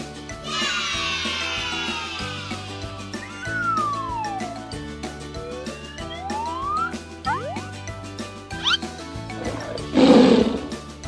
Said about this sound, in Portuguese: É um tigre.